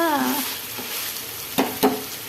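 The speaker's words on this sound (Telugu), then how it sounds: "ధనియాలు, అల్లం ఉల్లి పేస్ట్ అవన్నీ మసాలా వేసాను అన్నమాట. తిప్పిన తర్వాత" Masala of coriander seeds and ginger-onion paste frying in a pan, a soft continuous sizzle with a couple of sharp spoon scrapes and knocks as it is stirred.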